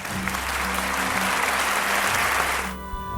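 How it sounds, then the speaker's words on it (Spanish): Warm applause from an audience at a Hogwarts-themed primary school play, a thick continuous wash of clapping that stops abruptly near the end, leaving a low hum. "para los que pido un aplauso."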